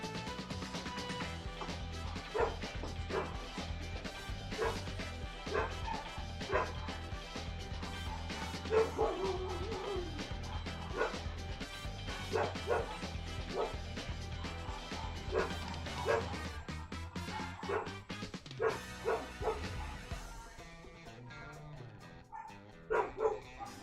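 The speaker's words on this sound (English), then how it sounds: "I hear the dogs barking" Several dogs bark in bursts of yips and bow-wows throughout, fairly faint and set against a steady background, with no talk heard.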